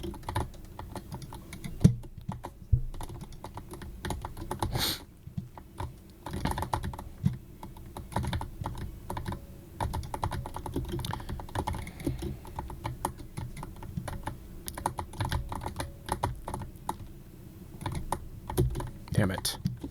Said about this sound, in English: Very clicky keyboard.